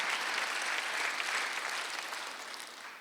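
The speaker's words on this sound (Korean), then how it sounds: "박수 한번 돌리시기 바랍니다" A church congregation at a Korean Sunday worship service breaks into dense, sustained applause, a steady wash of many hands that holds strong and then tapers slightly toward the end.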